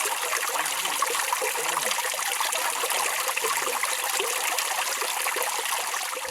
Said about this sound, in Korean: 어떻게 이렇게 물 흐르는 소리가 들리죠?